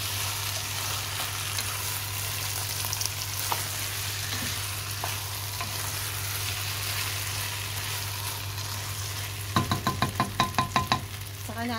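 Rice and chicken fry in a pot for arroz caldo, giving a steady close sizzle throughout, then a quick run of rhythmic scraping strokes near the end as the mixture is stirred.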